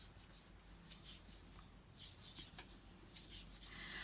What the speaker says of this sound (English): So I have a good rub down on the surface.